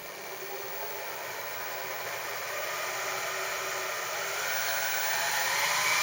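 A mini mill's power feed motor runs continuously, giving a smooth, even electric whine and hiss that grows slightly louder over the seconds, close and steady with no voices.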